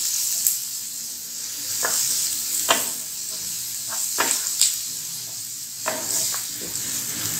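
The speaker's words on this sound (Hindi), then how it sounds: "इसको डालकर थोड़ा सा भूनना है।" Coriander and crushed chili frying in a pan give a steady hiss, broken by several sharp scrapes and taps of a spoon stirring against the metal.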